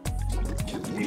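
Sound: vinegar poured into a plastic bottle

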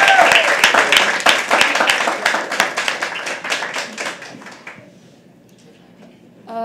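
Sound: audience clapping at a poetry open mic

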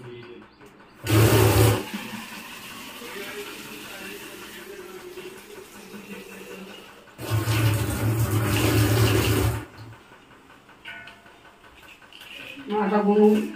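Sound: filling water from a tap

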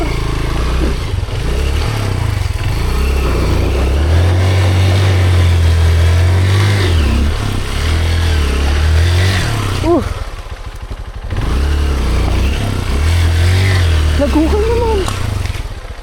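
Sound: motorcycle engine revving

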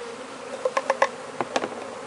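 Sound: honey bees buzzing in sample cup

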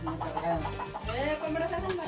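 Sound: chicken clucking, a big rooster

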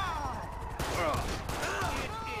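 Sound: gunfire in video game GTA 5

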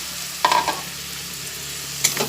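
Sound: fish heads frying in spiced oil

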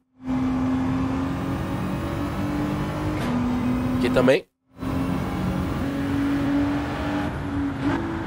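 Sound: race car engine heard from cockpit view in video game Gran Turismo 7

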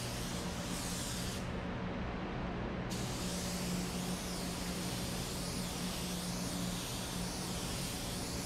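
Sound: spray gun spraying black sealer on Camaro car part

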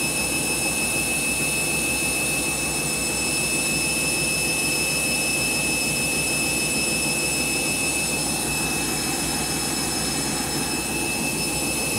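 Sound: candy washing machine spinning with detergent

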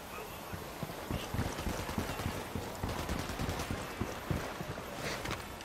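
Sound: gunfire in the video game Ghost Recon Wildlands

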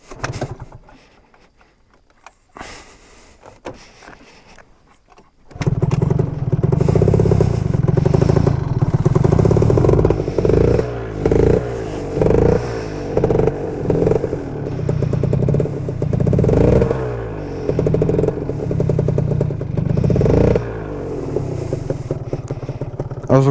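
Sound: Gilera Runner FXR 180 two-stroke scooter engine running

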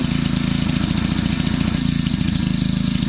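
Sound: Makita four-stroke engine warming up and revving

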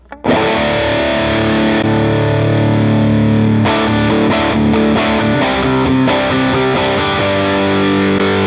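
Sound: Tube Screamer overdrive on a Line 6 Helix

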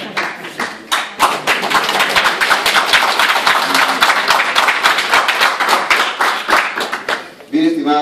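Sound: students applauding again

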